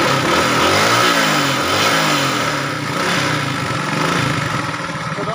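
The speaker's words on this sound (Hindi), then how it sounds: "बाइक बिल्कुल अभी स्टार्ट है" Old-model 70cc motorcycle engine running after a carburetor tune-up, loud and close, with a steady idle and uneven revving throughout and no talk.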